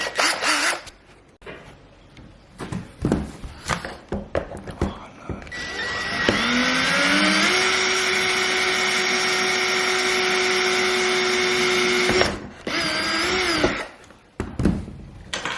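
A power drill whirs in a sustained run lasting several seconds, drilling holes to fit a splitter on an Astra VXR, framed by shorter clicks, bumps and handling noise before and after.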